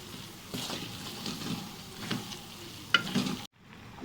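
Besan doodh halwa cooks in ghee in a pan, giving a soft continuous sizzle with occasional stirring scrapes, close and moderately quiet before it cuts off.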